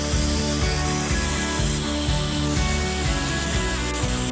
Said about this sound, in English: I'm going to get the abrasion disc and we'll try and sand this a bit to get rid of those marks